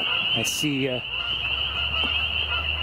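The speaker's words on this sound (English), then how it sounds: "2 geese coming by" Two geese flying past, giving a few short nasal honks early on, fairly close and clear over a steady high-pitched insect or bird drone outdoors, with a man's brief quiet remark.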